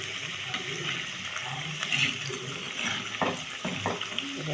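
Pakoras fry in hot oil with a steady bubbling hiss, close and moderately loud, punctuated by occasional clinks and stirring knocks of a utensil.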